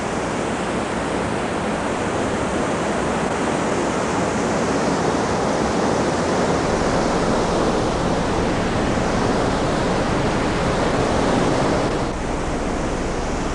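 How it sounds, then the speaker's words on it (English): Creek water pouring down into a huge hole in an Alabama cave, a loud, unbroken roar of falling water filling the space evenly with no voices. "all the water in the creek above us pours down into this huge hole"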